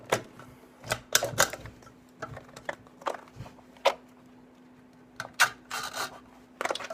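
A blade scrapes and clicks in sharp, irregular bursts while slicing open a car subwoofer speaker, close and quiet over a faint steady hum.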